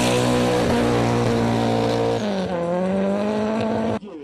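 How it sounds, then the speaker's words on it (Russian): A Honda S2000 sports car with a small engine racing in a street race in Khakassia: a loud, high-revving engine whine held at full throttle, then a shift to a lower tone before cutting off sharply near the end. "Первыми лошадями под капотом начали мериться спорткары с небольшим объемом двигателя и малым весом."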